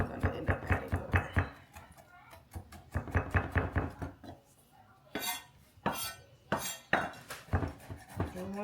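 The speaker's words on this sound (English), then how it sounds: "once you have all of your garlic chopped up" A knife taps rapidly on a cutting board while garlic is minced for chimichurri, bursts of quick close chopping knocks followed by a few louder scraping sounds.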